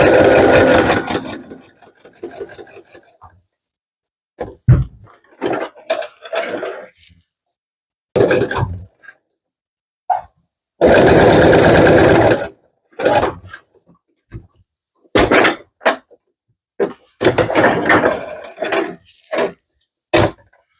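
A sewing machine stitches stretchy fabric in short, loud bursts of running stitches separated by silent pauses, with small clicks and handling noises between the runs.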